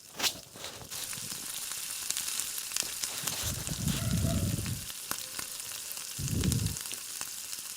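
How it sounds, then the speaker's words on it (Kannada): Green chillies and chopped onion fry in hot oil with a steady close sizzle throughout, while two brief lower bursts of stirring rise above it. "ಚೆನ್ನಾಗಿ ಫ್ರೈ ಮಾಡ್ಕೊತೀನಿ."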